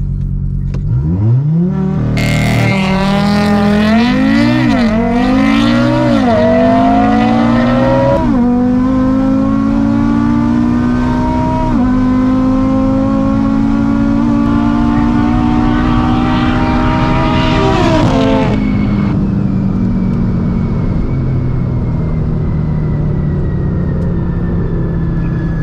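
A sports car, a Ferrari, Lamborghini or Audi TT RS, launches hard on a race track, engine roaring up through repeated gear changes with rising pitch sweeps, loud and close, then settling to a steadier high-speed drone.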